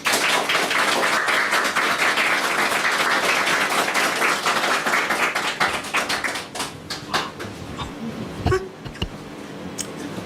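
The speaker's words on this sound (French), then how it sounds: "Merci de la recevoir avec vos applaudissements" Studio audience at a French talk show applauds loudly and densely, then the clapping thins into scattered claps and tapping as voices begin to speak.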